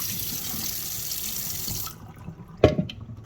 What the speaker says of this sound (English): pour that water out, rinse this out a little bit